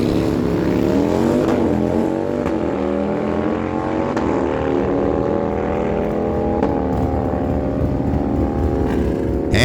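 A 2004 Harley-Davidson Lowrider and an FTR drag race at a dragway, their loud, dense V-twin engine roar droning close and steady throughout with layered harmonic tones.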